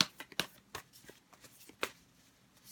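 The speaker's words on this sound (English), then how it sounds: "A few more shuffles." Tarot cards being shuffled up close: a series of soft, quick papery snaps and flutters in short, uneven bursts.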